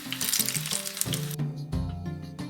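Moong dal pakoras frying in hot oil give off a steady close sizzle with soft bubbling and occasional stirring clinks, continuous for the full length with no talking.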